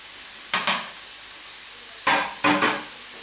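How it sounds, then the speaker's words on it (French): Cut tomatoes sautéing in a pan with rice to follow, heard as several short bursts of sizzling and stirring separated by quieter pauses. "Je vais mettre aussi des coupes de tomates et puis je vais laisser revenir un petit peu"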